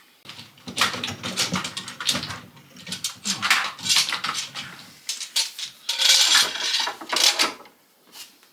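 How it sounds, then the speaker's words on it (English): A clamp is cranked tight on a glued wooden dice tower set on a piece of card, producing a close run of sharp clicks, clunks and ratcheting knocks in uneven bursts. "So we'll clamp it up nice and strongly."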